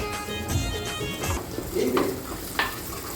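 Onion, bay leaf, ginger and garlic frying in a pan for a goat intestine dish, with a continuous close sizzle and a few clinks of stirring, alone without speech.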